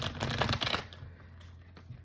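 Tarot cards being shuffled by hand, a close, soft riffling and flapping rush that fades after about a second into quieter rustles.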